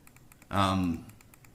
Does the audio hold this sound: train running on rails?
no